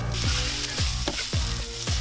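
Onions sprinkled with salt fry in a hot pan with a loud, steady sizzle, broken by about four regular scraping strokes as they are stirred.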